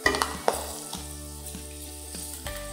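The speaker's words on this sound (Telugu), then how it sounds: "మనం దీంట్లో ఆయిల్లో ఫ్రై చేస్తున్నాము" Halved chillies fry in hot oil for a prawn roast, crackling and sizzling steadily, with a couple of light utensil clinks near the start and no voices.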